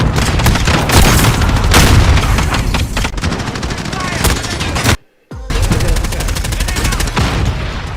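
Gunfire and explosions from a grenade fill a first-person shooter video game. Dense, loud, continuous shooting and booms go on throughout, broken by one brief dropout of near silence, then resume just as heavily.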